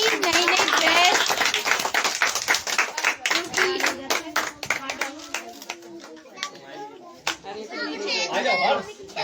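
Children clap their hands together in a lively burst of sharp, rapid claps that later turn sparse and irregular, with kids' chatter and adult voices talking over and between the claps.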